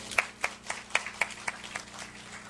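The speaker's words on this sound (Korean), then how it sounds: "잘 왔다고, 고맙다고, 힘내라고 한 번 더 박수로 격려해 주실까요?" A church congregation claps to encourage children, about six distinct claps in a steady rhythm, fairly faint and distant, fading into quiet room tone.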